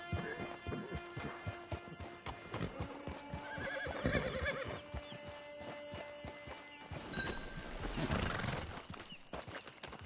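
Horse hooves clop in a steady close rhythm inside a PS4 video game, joined by a loud neigh or whinny partway through and another burst of horse noise near the end.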